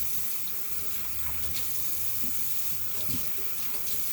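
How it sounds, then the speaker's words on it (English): A kitchen tap runs steadily into the sink while celery is rinsed under it, a close, continuous splashing flow with slight shifts as the stalk moves through the stream, and no talking. "You're going to rinse the food off of here."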